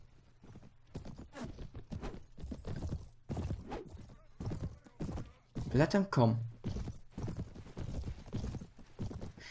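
Horses galloping in the Mount & Blade video game, a steady clip-clop of hooves running through most of the stretch with a brief whinny midway, heard under continuous talking.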